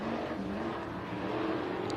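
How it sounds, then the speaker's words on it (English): IMCA stock cars roar together at the green flag on the Central Arizona Raceway dirt track in Casa Grande, a steady blended engine drone heard at a distance under a broadcast mix. "As the green flag comes out, and stock car action is officially underway here at the Big House."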